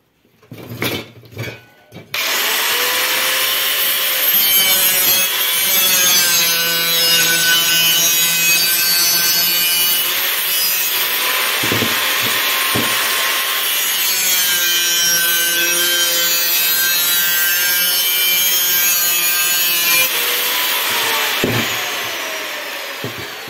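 A saw cuts a steel garage roller-door spring being shaped into a hoe, giving a loud, sustained metallic rasping with a ringing tone. It begins after a few short knocks and runs steadily.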